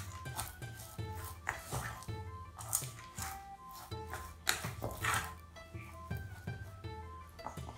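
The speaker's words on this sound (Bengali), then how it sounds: "ভালো করে মুড়ি ও গুড়টাকে মিক্স করব।" Puffed rice being mixed by hand with jaggery for moa, giving close, soft crunchy rustles and squishy handfuls in an uneven rhythm, with no talking.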